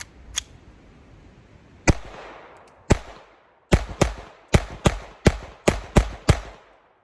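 .22 pistol shots from an FN 502 and a Glock 44 firing CCI Mini-Mag rounds: a few spaced cracks, then a rapid string of about eight sharp reports, close and loud with short echoing tails, outdoors.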